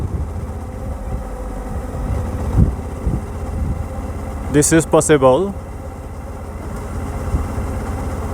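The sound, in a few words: Suzuki V-Strom 1000 motorcycle engine idling at low RPM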